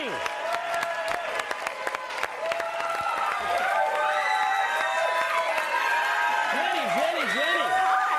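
A studio audience on a reality competition show claps and cheers steadily, a dense wash of applause and shouts that stays loud for the whole stretch, with music playing underneath.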